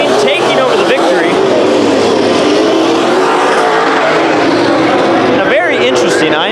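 IMCA modified race cars roar around the dirt oval at Bakersfield Speedway during a heat race, a dense, loud engine drone with cars passing and revving, an announcer or crowd voices mixed in.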